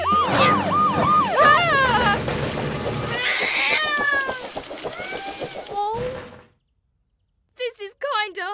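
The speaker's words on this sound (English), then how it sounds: "Oh, I think the kitten is scared of me." A cartoon kitten stuck up a tree meows repeatedly in high, wavering cries, mixed with a siren-like wail and a speaking voice, followed by a brief silence and a final burst of short meows.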